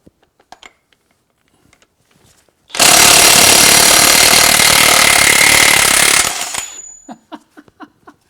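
A DeWalt DCF899H three-speed brushless impact wrench hammers loose a crank bolt torqued to about 250 foot-pounds, a loud, rapid rattling burst lasting nearly four seconds, with soft clicks and handling noises before and after.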